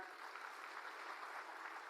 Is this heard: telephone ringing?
no